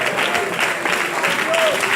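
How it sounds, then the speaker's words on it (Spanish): Church congregation clapping during a Spanish-language sermon at a baptism service, a steady dense wash of applause filling the whole stretch with faint voices mixed in. "Dele palmas al Rey de Reyes y Señor de los señores."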